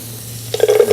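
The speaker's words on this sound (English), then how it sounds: "The sizzle of a carrot." Diced julienned carrot hits a hot pan, and after a quiet moment a sudden crackling sizzle breaks out, close and loud, with sputtering bursts as the pieces are stirred.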